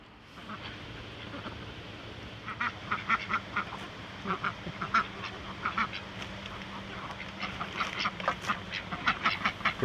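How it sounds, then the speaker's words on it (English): Ducks quacking at a rural cabin, in repeated bursts that grow busier and louder over time, with a steady low hum underneath. "We really enjoy having these ducks and chickens."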